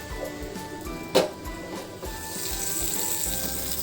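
Ghee with cashews and raisins sizzles steadily in a pan for sweet pongal, a continuous close frying hiss that swells louder in the second half, with a brief clink near the start.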